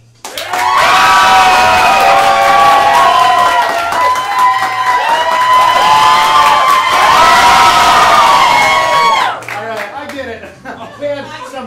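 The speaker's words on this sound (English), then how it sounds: "All I need you to do is scream and cheer the loudest for the person that you want to win" A live comedy improv show audience screams and cheers loudly and continuously for about eight seconds, then the roar drops away into scattered shouts and claps.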